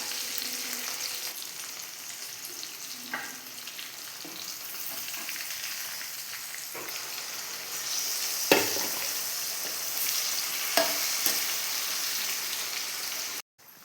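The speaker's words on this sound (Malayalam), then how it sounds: "ഇത് നമുക്കിനി കോരി മാറ്റിയതിന് ശേഷം ബാക്കിയുള്ളതും കൂടി ഒന്ന് ഫ്രൈ ചെയ്തെടുക്കാം" Chicken pieces fry in hot oil with a loud, unbroken crackling sizzle like rain, broken now and then by a few sharper clinks of a ladle, no talking.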